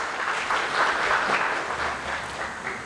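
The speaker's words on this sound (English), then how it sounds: "give a brief round of applause for the sir" Brief round of applause from an audience at a professional seminar on audit of advances, dense steady clapping lasting a few seconds with no voices over it.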